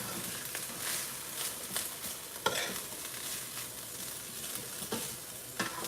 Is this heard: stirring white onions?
yes